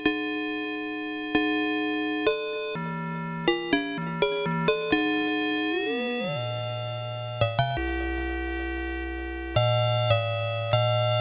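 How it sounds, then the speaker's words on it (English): Synthesizer plays a sequence of struck, bell-like tones that ring and sustain, with pitches shifting and gliding between notes. "Very nice kind of bell-like tones,"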